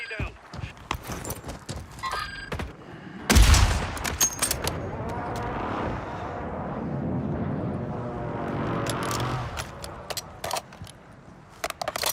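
Bursts of gunfire in the video game Warzone, a dense, loud volley of shots cutting in after sharp scattered cracks, with a player's voice talking over the steady game noise.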